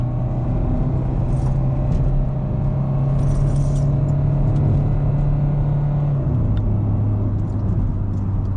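A Renault Clio 1.5 dCi diesel with EDC automatic gearbox drones steadily from inside the cabin as it accelerates uphill, its pitch holding then dropping with a gear change, under constant road noise.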